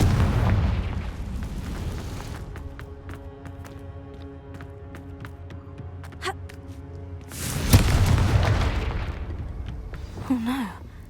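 A Confringo blasting spell in the game Hogwarts Legacy erupts in a loud, rumbling explosion that fades into crackling debris, then a second heavy blast follows, with a brief whooshing tone afterward.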